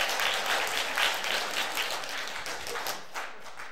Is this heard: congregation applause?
yes